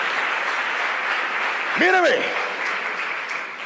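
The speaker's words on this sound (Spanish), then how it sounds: "Como aplauden, aleluya." A congregation applauds during a sermon with a steady wash of clapping, while a voice briefly calls out over it.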